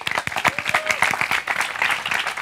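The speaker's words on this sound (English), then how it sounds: "a round of applause for the gentleman called Ahmad Al Harthy, our champion" Audience applause for champion Ahmad Al Harthy: a dense, steady patter of many hands clapping at close range, with a brief tonal whistle riding over it partway through.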